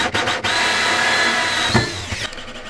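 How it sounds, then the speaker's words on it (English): Power drill driving a hole saw through a workbench top, a loud continuous grinding whine after a few brief stuttering starts, with a short dip in the middle and a fading finish. "I use the hole saw to make the holes in the bench."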